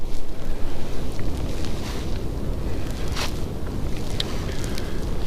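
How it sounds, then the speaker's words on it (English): Steady wind roars and buffets across the microphone, a broad rushing noise with occasional gusts, loud and close, with no talking. "It is very windy."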